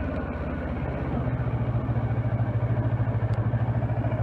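Kawasaki Versys 650 motorcycle engine as the throttle is eased on, a steady mid-pitched drone whose low, rapid pulsing firms up and grows louder partway through, close by with no talk.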